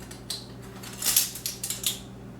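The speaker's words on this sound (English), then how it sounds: "And I'll just beat that up with the eggs." Eggs and vanilla beaten in a bowl, heard as a short run of light metallic clinks and taps of utensil against the dish, close up and fairly quiet, with no one speaking.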